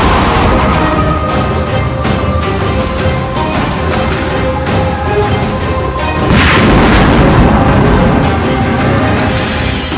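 Artillery fire and explosions around Bakhmut form a dense, continuous wall of loud, rumbling booms and crashes that lasts the whole time, with no clear gaps between blasts.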